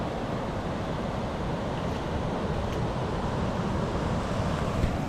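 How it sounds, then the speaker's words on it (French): Steady roar of surf at a campsite, continuous broadband wash with wind rumbling against the microphone, no talk, the waves holding at an even level throughout. "Je sais pas si on va voir les vagues sur la GoPro, mais elles sont belles"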